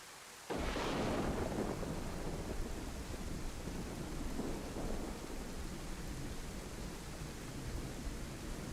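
Steady heavy rain with rumbling thunder in the Livonia survival game, a loud broadband downpour that starts abruptly and continues throughout, with rolls of thunder near the start and again midway.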